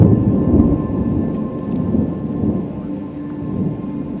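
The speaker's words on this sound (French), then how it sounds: "l'orage décide de s'exciter juste devant moi" Thunder rolls and rumbles continuously through a thunderstorm with light rain, a loud, sustained low roar that swells and eases without a break, over a lake.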